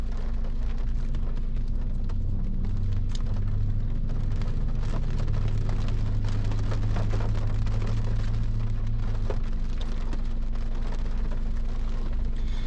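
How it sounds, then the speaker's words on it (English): Heavy rain falls steadily outside on a very bad weather day, producing a continuous hiss with scattered drip and patter ticks, together with a low steady hum, and no voices. "Can you guys hear the rain?"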